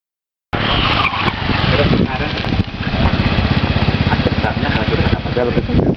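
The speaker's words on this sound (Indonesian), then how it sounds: "kemudian didemokan juga cara pengereman dari" Honda motorcycle braking demonstration with tires skidding, covering front-only and rear-only braking: a loud, continuous engine roar with harsh scraping noise runs steadily after a sudden start, and voices are mixed in.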